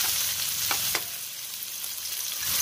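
Onion hits hot vegetable oil and sizzles in a steady, bright hiss close by, with a couple of sharp crackles and stirring scrapes near the start.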